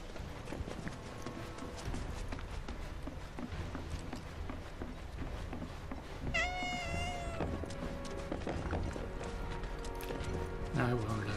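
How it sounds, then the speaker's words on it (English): Cat meows sound from the Final Fantasy VII Rebirth video game, with a bright, clear mewing cry around the middle. It sits over busy game sounds, including rhythmic clip-clop steps. "Come on, little kittens."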